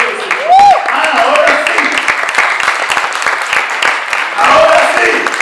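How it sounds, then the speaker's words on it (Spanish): Crowd applause rolls on steadily while someone speaks over it, with a rising vocal whoop near the start and a swell of clapping and voices toward the end. "Yo quiero dar un aplauso."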